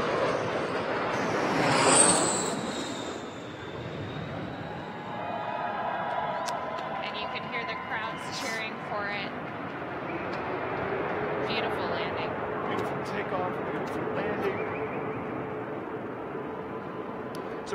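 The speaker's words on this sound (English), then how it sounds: "Very first landing of the 777X." A Boeing 777X airliner makes its very first landing at Boeing Field in Seattle after its first flight. Its jet engines give a steady, moderately distant roar, with a rising whine that swells early on before settling.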